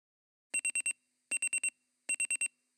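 An alarm clock set for early morning beeps in three bursts of four rapid electronic tones, evenly spaced, clear and close in a quiet room.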